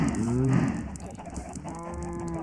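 Cows in the Minecraft video game mooing loudly and close by, with several overlapping drawn-out moos that fill the clip and a faint voice underneath.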